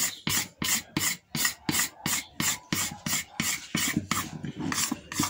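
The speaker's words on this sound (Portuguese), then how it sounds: "Tem que ser no raspador." A scraper rasps steadily across a wooden Winchester rifle stock in about a dozen even, rhythmic strokes, close up and fairly loud, with no voices.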